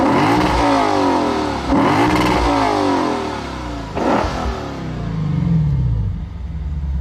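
A 2015 Lexus RC F sports car engine revs hard and loud, climbing in pitch, dropping briefly, then surging again before easing off.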